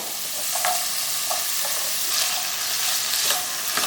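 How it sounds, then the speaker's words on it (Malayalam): Chicken pieces and small-cut potato frying together in hot oil, a steady close sizzle with a few light stirring scrapes, no talking. "ഇതൊന്ന് നമുക്ക് ഫ്രൈ ചെയ്തെടുക്കാം"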